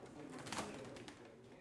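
Pigeons cooing in a loft of domestic breeding birds, a soft low murmur of coos at a faint level with a brief brighter flutter in the middle.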